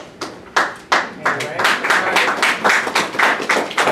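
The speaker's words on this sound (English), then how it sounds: "y'all gave her a round of applause" A small group claps during a talk about becoming an entrepreneur, starting with a few separate sharp claps that build into quick, uneven clapping close by.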